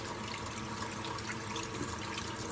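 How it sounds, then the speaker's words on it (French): Steady running water from a tap splashes over hands being rinsed at a sink, a continuous close hiss and patter lasting throughout with no talking. "je me rince les mains"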